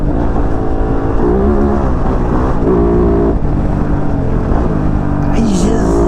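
A KOVE 450 Rally motorcycle engine loud and close on a test ride, holding a steady droning roar with small rises and dips in revs throughout.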